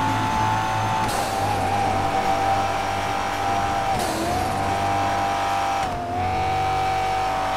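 A car in GTA 5 accelerates hard, its engine whine climbing steadily and dropping briefly at each gear change, a continuous loud roar with no talking.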